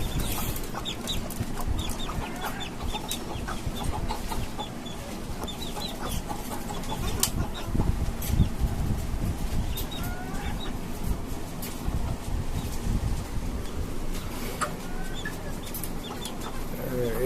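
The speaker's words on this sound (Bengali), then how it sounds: "এখানে আমার কিছু বাচ্চা আছে মুরগির" Fourteen-day-old desi chicken chicks in a cage on a small poultry farm keep up a busy chorus of high peeps and soft clucks, near and continuous. Muffled background voices and faint shuffling run beneath.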